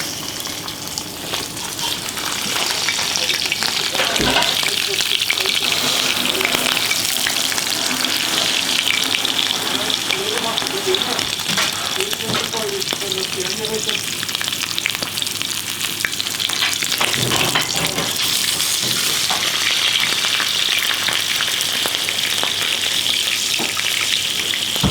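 Alsatian pigeon roasting in a hot pan in a three-Michelin-star restaurant kitchen, a steady, loud, close sizzle and crackle of fat running the whole time, with brief stirring or shifting noises and no talk.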